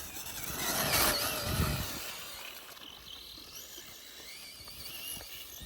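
A Traxxas Stampede 2WD brushless RC truck drives through snow. Its thin, high motor whine rises and falls in quick surges, loudest near the start, then settles fainter and farther off.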